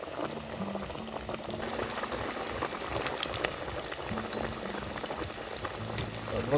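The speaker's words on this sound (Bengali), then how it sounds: "টকবক করে ফুটে, টকবক করে। আর এটা তেলের মধ্যে মোটামুটি তোমরা 12 থেকে 15 মিনিট এরকম ভাজবে" Chicken coated in flour deep-fries in hot oil, bubbling and crackling steadily up close for several seconds, with a faint low hum underneath.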